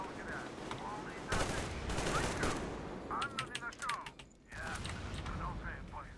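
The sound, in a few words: gunfire from Metro Exodus video game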